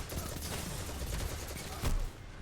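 Rapid gunfire from Destiny 2 rattles in dense continuous bursts, loud and close, with a heavier volley near the end and no voices.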